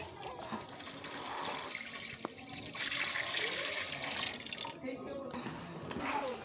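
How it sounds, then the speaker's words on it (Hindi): Milk streams and splashes into a large pan of rice and a little water for Pakistani gajar kheer, a soft, uneven liquid pour with gentle gurgling at moderate distance. "12 किलो दूध मैंने ऐड कर दिया इसमें"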